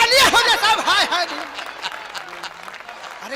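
Audience applause at a Hindi comedy poetry show (hasya kavi sammelan), steady clapping running throughout under a loud, melodic sung recitation that dominates the first half.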